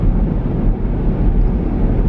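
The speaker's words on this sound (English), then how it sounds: "Now the wind is getting really strong." Strong wind buffets the microphone outdoors, a loud, steady low roar that fills the whole moment with no break.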